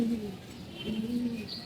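Pigeons coo softly at close range in a loft of colored pigeons, low throaty murmurs rising and falling over the 1.7 seconds, with faint chirps above.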